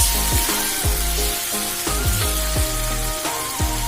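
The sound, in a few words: stirring sizzling rawon spice paste in a pan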